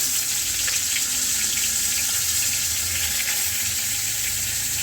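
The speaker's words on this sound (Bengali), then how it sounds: "কড়াইয়ের মধ্যে তেল দিয়ে পটলগুলোকে একের পর এক ছেড়ে ওগুলোকে ভালো করে ভেজে নেব" Pointed gourd (potol) frying in oil in a wok gives off a steady, even sizzle that holds its hiss without a break.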